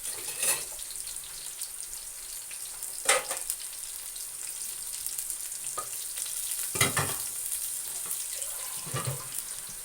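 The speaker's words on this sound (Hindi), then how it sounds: "ये जनाब साथ साथ ये प्याज जो है ये ब्राउन होती जा रही है" Chopped onions for keema matar frying and browning in a pan, a steady hiss of sizzling oil broken by several scraping stirs of a spoon, close up with no talk.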